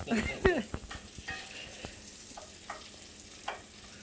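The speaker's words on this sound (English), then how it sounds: "we're going to let these saute a little bit" Food for a surf and turf meal sautés in a pan with a soft sizzle, and a spoon clinks and scrapes a few times. A brief voice comes near the start.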